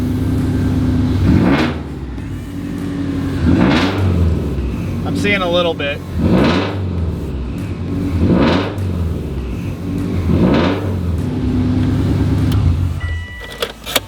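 A 2004 Subaru STI with an EJ engine revs repeatedly in loud, rising bursts that fall back to a steady idle, with a person talking close by between the revs.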